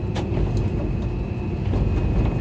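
A passenger train pulls into Peshawar Cantt railway station, heard as a steady, loud low rumble of rolling carriages with faint intermittent clanks, continuous throughout.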